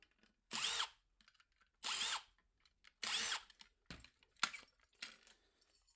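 A power drill unscrews solid copper heat sinks from e-waste circuit boards in three longer close whirring bursts. Several shorter quick pulses follow, with quiet gaps between them.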